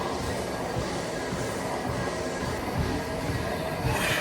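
A broken gym treadmill runs loudly with a constant grinding, rumbling drone and scattered rattles, steady and unbroken throughout.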